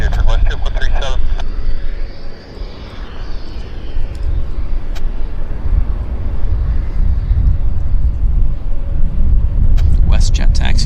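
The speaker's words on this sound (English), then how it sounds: "WestJet taxiing out the new colors." A WestJet airliner taxiing at Vancouver Airport, a loud steady low engine rumble with wind buffeting, while radio chatter crackles at the start and end.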